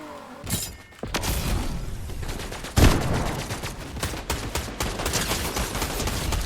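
Gunfire from a new weapon in the Fortnite battle royale game, heard as rapid bursts of loud, sharp shots with a heavy impact near the middle, continuing as dense clatter, with no talking over it.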